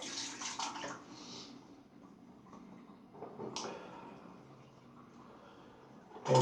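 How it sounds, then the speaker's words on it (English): Water drains from a bathroom sink with a soft, close gurgling wash that runs steadily under light handling clatter, ending in a brief louder splash. "Oh, I'm just going to drain this sink."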